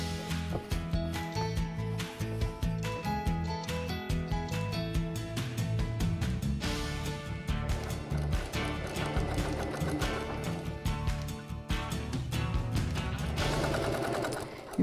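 A sewing machine stitches fine kimono fabric up close, its rapid needle clatter running in bursts with brief pauses, loud and steady with no voices.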